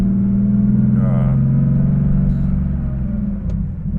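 A 1985 Porsche 911 3.2 Carrera with a Fabspeed muffler delete and 915 gearbox, driven cold, rumbles loudly and steadily from up close, then eases off as the driver short shifts near the end.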